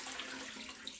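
White potatoes soaked in water for a crock-pot neck bones recipe, the soaking water pouring off them into a sink: a steady, close splashing trickle that runs unbroken for about a second, with no voices.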